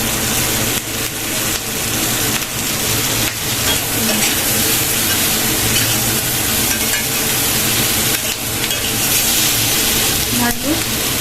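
Chicken for chili chicken fries in spiced water over low heat, a loud, steady sizzle with repeated scraping stirs throughout, close up and filling the whole stretch.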